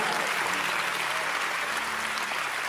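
Loud, continuous clapping from a congregation fills a church during a sermon, a dense wash of hands with a faint murmur of voices underneath.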